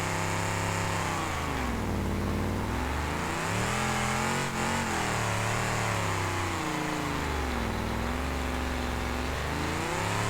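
A damaged pickup truck in BeamNG.drive drives with its chassis dragging, the engine droning and revving loudly and continuously, pitch rising and falling in long sweeps throughout.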